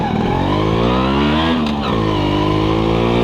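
Suzuki Crystal motorcycle being ridden, its engine close and continuous as it revs up and down, pitch falling then rising again midway.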